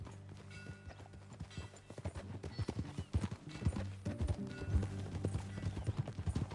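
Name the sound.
horse hooves riding in Red Dead Redemption 2 video game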